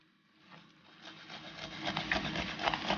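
A fish scaler scrapes scales off a fish in a kitchen, close rapid scratchy strokes that start faint and build into a busy rasping rhythm.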